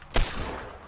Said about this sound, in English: I thought someone was shooting at me.